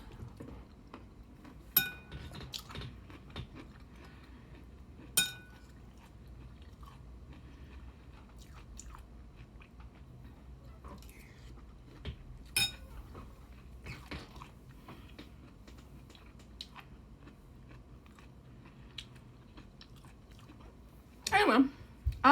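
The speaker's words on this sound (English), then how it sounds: "I'm gonna finish the rest of this soup" Someone eating soup gives quiet, intermittent chewing and mouth sounds, with a few sharp clinks of cutlery against a bowl over a near-silent room.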